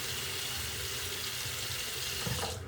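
A bathroom tap runs steadily into a sink before a shave with a straight razor, a continuous close hiss and splash with no voices over it.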